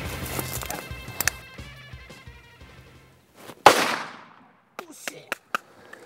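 A single sharp pistol shot fired while hunting in Africa, loud and close, after a stretch of quiet background, followed by a few fainter clicks and knocks.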